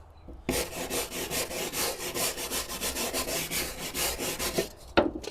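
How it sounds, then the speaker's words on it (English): A wire brush scuffs back and forth along a raised rail of a Bedrug Bedtred truck bed mat, a steady run of close, rhythmic rasping strokes that ends with a louder scrape. "so we just need to scuff this up. Use this here wire brush."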